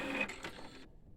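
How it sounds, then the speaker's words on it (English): An Epson L1800 DTF printer runs its checks after a head clean, giving a close, steady mechanical whir that stops abruptly partway through and leaves only faint room noise. "the printer is doing some checks after the head clean"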